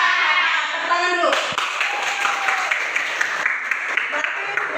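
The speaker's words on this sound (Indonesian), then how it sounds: "Tepuk tangan dulu." Students in a midwifery academy classroom clap their hands together in a dense burst of applause that carries on steadily, with a teacher's voice heard at the start.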